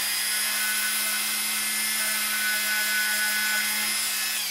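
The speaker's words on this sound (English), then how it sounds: "there was little carbon deposits on both of them. So I just took my Dremel and" Dremel rotary tool polishing carbon deposits off the carbon rods of a Singer Model 337 sewing machine foot control, giving a steady, loud high-pitched whine with a constant hum that holds for the whole stretch.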